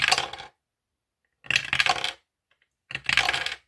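Three dice clatter and tumble across a tabletop during a board game, in three separate bursts of rattling with short silent gaps between them, close and fairly loud.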